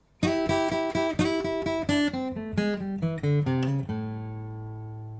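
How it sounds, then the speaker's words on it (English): Acoustic guitar plays a blues lick of plucked double stops and sliding notes, ending on a ringing sustained note; clear, close and unaccompanied, with no talking. "As you can see, we use double stops and arpeggio here once again."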